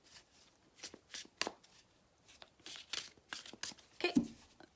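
Stiff tarot cards being shuffled by hand, a run of crisp riffling bursts and soft slaps, fairly quiet and close with no talking.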